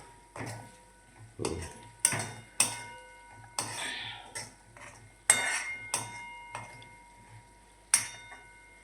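Cabbage curry being stirred in a cooking pot, with a spoon knocking and scraping against the metal in about a dozen sharp, clinking strikes spread irregularly, fairly close and clear with no talking.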